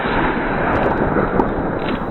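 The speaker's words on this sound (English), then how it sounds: "It was too powerful explosion." Loud, sustained roaring blast noise from a champagne bottle exploding inside a microwave oven, a dense continuous rumble with a few sharper bursts.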